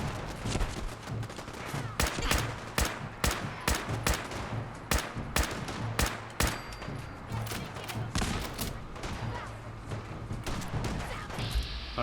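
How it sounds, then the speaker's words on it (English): Enemy gunfire hits the player in Fallout 4: a long string of sharp, separate shots arrives at an uneven pace over twelve seconds, some quick bursts and some spaced apart, moderately distant over a steady background rumble. "I hear lots of things shooting at us"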